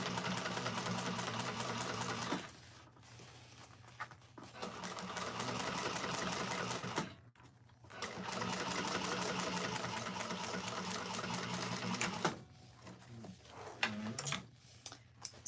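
A sewing machine top stitching a bag lining runs in three long bursts of rapid, even stitching separated by brief pauses, then a few short stops and starts near the end, all close and moderately quiet.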